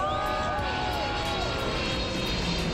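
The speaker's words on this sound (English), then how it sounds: "Qatar Airways did their own flyover" A Qatar Airways airliner flies over the Qatar F1 race circuit, its engine roar steady and loud throughout, with no talking.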